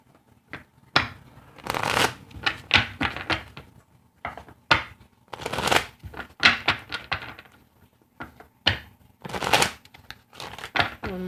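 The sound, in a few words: shuffling a deck of cards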